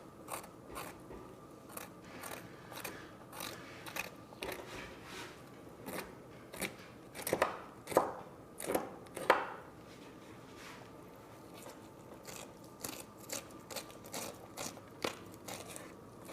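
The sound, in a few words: knife cutting walleye fish skin for taxidermy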